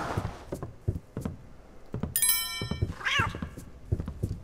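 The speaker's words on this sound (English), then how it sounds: "He alerted because of the stupid cat." A cat meows in the stealth game Thief: Deadly Shadows, a short rising-falling cry near the end amid dull thumps and a bright metallic jingle, with no talk.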